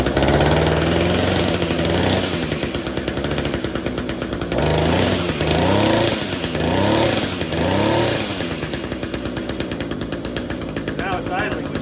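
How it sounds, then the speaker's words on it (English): A small two-stroke Echo SRM 210 string trimmer engine putters and idles close by after a coil replacement, rising and falling with a few throttle blips, then settles into a steady rattle. "Now it's idling, which it never did before."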